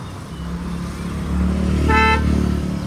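A cab's engine rumbles steadily and grows louder as the car pulls up on a road near Alibaug, with a short horn toot near the end; no one speaks.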